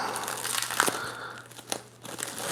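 Plastic saran wrap crinkling as a comic book is unwrapped by hand, close-up rustling and crackling in uneven bursts with short sharp crinkles, fairly quiet and alone.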